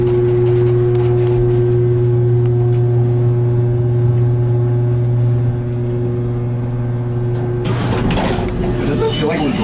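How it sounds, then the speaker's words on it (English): An elevator motor hums steadily as the car rises, a constant low drone with a faint whine above it, before people start talking loudly near the end. "Alright, now going up, can we all be quiet so we can hear the motor?"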